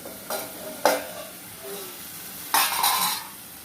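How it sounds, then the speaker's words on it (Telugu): Coriander, tamarind and tomatoes dropped into a hot frying pan, a few sharp bursts of sizzle, the last one longer and fading, close, over a low hiss. "అప్పుడు కొత్తిమీర చింతపండు అందులో వేసేస్తాను టమాటాలు టమాటాలు ఏదో వేసేస్తాం"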